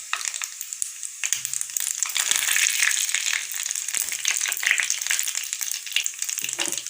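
Mustard seeds, cumin and curry leaves hit hot oil for a dhaba-style dal tadka, giving a steady, close, crackling sizzle with sharp popping spatters throughout.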